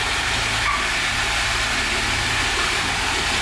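A Cummins diesel pickup with a compound turbo setup runs continuously nearby, a dense low rumble under a steady wash of hissing noise, with no voices.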